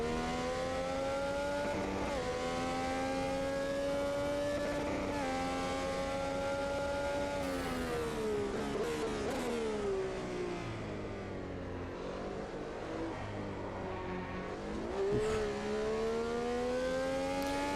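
Brabham BT46B fan car racing in Automobilista 2, its engine revving loud and continuous with rising and falling pitch through gear changes and corners, held close throughout with no talk.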